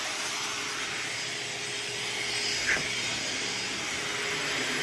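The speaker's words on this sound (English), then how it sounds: "An intense blower." An intense blower with a stealth hose extension and a short power cord roars with a loud, steady rushing whoosh from start to finish, with one brief bump partway through.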